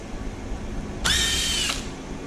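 A power drill removes screws from a Traxxas E-Revo RC truck chassis, with one short, close, high whir lasting under a second against quiet room noise.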